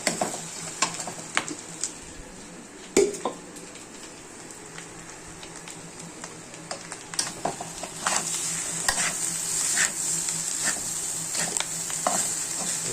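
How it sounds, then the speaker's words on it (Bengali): Cooked white rice frying in a pan and stirred, with a soft background sizzle under scraping spatula strokes and occasional clacks, busier toward the end; nobody speaks. "দেওয়ার পরে আবার নাড়তে হবে।"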